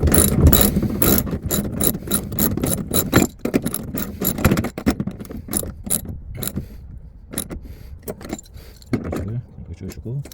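A ratchet wrench clicks in rapid bursts while tightening a nut onto a bolt on a bracket in a Kia Bongo 3 double cab, close and crisp with metallic jangling, pausing and resuming, under a voice explaining the work.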